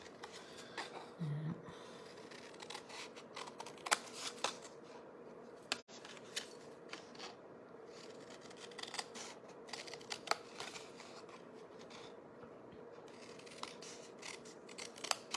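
Scissors snip through paper for a craft liquid glue holder box, a run of soft, close cuts and rustles at low level with brief pauses, no talk.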